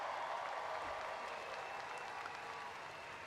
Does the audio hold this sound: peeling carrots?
no